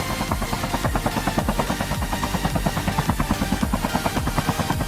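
Helicopter from the Call of Duty Mobile battle royale mode, a steady loud rotor drone with rapid, evenly pulsing blade chop throughout, no voices over it.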